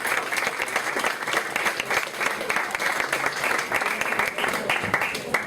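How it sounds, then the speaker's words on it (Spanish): An audience at a panel event in Tabasco claps steadily and fairly loudly, a dense, sustained round of applause that fills the whole stretch. "Fuerte los aplausos, por favor."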